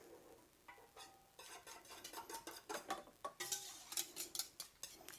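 Spoon stirring sugar, vanilla and cinnamon in a bowl for French toast casserole, a quiet series of rhythmic scraping and clinking strokes that speed up toward the end, close and with no talk.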